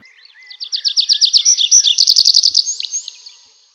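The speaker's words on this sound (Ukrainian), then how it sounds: "скільки разів ми почули пташку?" A single bird trills loudly nearby, with quick repeated chirps blending into a bright warble for about three seconds and no other sounds.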